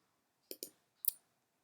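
A computer mouse clicks quietly against near silence: a quick double click, then a single click about half a second later.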